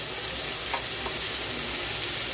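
A paste of tomato, green chili, ginger and garlic sizzles steadily in hot oil in a pan, a dense continuous hiss that stays loud and close for the whole moment with no voices.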